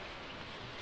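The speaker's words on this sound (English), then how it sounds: "It's raining." Steady soft patter of rain in the farming video game Stardew Valley, a continuous, even wash of falling drops with no thunder, fairly quiet and alone.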